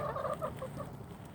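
A hen clucks close by in a few soft, quick bursts, a short run of low throaty notes that trail off quietly.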